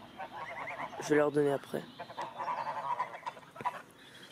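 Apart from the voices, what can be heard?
geese honking for food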